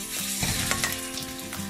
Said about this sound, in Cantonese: 咁樣翻炒佢啦，將雞肉炒開佢啦，冇俾佢黐埋一嚿啦